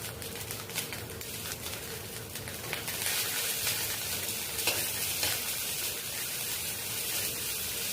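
Grated ginger and garlic with onion paste fry in a pan, giving a continuous close sizzle with scattered stirring clicks and a slightly louder hiss partway through.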